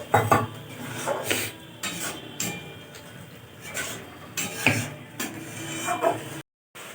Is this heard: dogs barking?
no